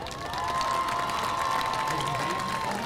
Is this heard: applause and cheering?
yes